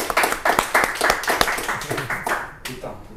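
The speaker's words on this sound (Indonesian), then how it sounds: "Tepuk tangan dong, tepuk tangan sendiri." Studio audience at an Indonesian talk show claps in a burst of sharp, uneven hand claps over a few seconds, close and fairly loud, with talk running underneath before it tapers off.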